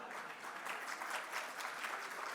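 An audience at a healthcare keynote event in Delhi applauds, a soft, even wash of clapping from a distant crowd, steady and faint throughout with no speech over it.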